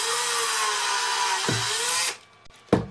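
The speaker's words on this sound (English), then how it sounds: "what I'm going to be doing is drilling dead central" A power drill whines steadily at high speed, briefly dips in pitch, then stops, followed by a short second burst of the motor.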